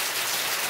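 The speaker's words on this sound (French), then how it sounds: "Il commence à pleuvoir comme super fort comme ça d'un coup." Heavy rain suddenly pours down, a dense, steady hiss of drops hitting surfaces that fills the whole brief moment without pause.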